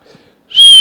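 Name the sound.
a person attempting to whistle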